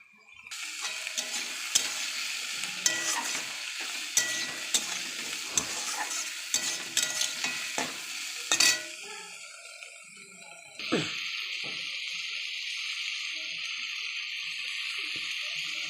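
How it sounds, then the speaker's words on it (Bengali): Onions fry to a deep red in a pan with a loud, constant sizzle, broken by repeated scraping and tapping of a spoon as they are stirred, then the hiss settles to an even, steady crackle. "দেখো আমার পেঁয়াজ ভাজা হয়ে গেছে, লাল লাল হয়ে গেছে।"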